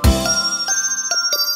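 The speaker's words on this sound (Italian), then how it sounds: "4 campane, ding dong dan, ding dong dan," Bright chiming bells ring out, a strong opening strike followed by several lighter tinkling strikes that let their tones hang and shimmer.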